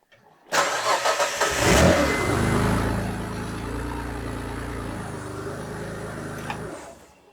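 Ford Anglia engine firing up in a garage: a brief cranking that catches into a loud rev, then settles into a steady, smooth idle for several seconds before cutting off, close by, with no talking.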